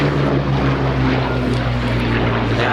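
A Hawker Hurricane Mk.I with a three-bladed variable-pitch propeller runs at an air show, its engine and propeller giving a loud, steady, throbbing drone throughout.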